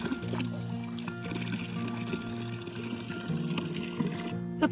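Cold drinking water runs from a source along the Camino de Santiago trail, a steady close pouring stream heard beneath music.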